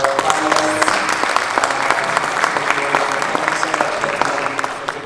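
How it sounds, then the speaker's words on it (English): An audience applauds panelists at a venture capital outreach event, steady dense clapping from a room of people that holds evenly and tapers slightly at the end. "please help me send a round of applause for our panelists"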